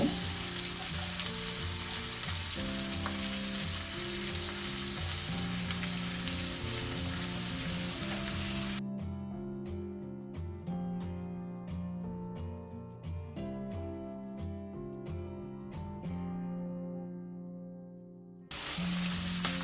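Ginger and garlic fry with mushrooms in a pan for a chicken and mushroom stir fry, giving a steady, soft sizzle under background music.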